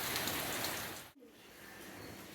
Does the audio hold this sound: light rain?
yes